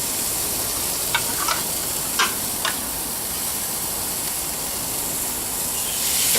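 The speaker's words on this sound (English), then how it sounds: "Oh, I hear that sizzle." Steady sizzling hiss of bone-in ribeye steak cooking on a Kamado Joe Classic charcoal grill, with a few soft clicks and taps early on and no talking.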